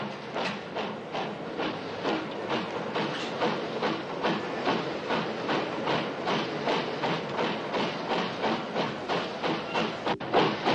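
A train runs steadily with an even, rhythmic clatter of wheels over rail joints, a continuous hissing rumble beating at a regular pace throughout, with no voices.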